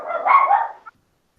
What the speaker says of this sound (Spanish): Hay un, hay un sonido de unos perros.